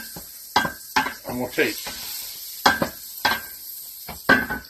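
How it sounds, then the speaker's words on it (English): Chicken noodle soup is stirred in a pot, giving a series of close scraping clinks at irregular intervals, with a voice talking over them. "while I fucking stir this shit around here like this"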